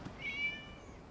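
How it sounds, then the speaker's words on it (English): A single short, high cat meow with a clear tonal cry, fairly faint and alone against quiet background, heard in a story-driven game set around saving a tanuki. "It was just a cat."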